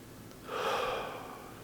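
A single deep, relaxing breath drawn in and let out slowly, soft and close, rising to a gentle swell then fading, alone with no talking.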